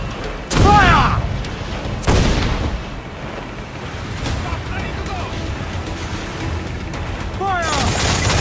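Ship cannons fire in a pirate-era naval battle in a video game: two heavy, close booms come early and another near the end, over rumbling sea and battle noise, with voices shouting.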